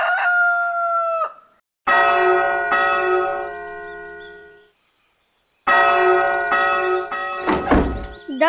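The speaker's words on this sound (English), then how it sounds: "The bell is ringing" A large bell rings in repeated loud, resonant strikes, with long ringing decays and brief quiet gaps between groups of tolls.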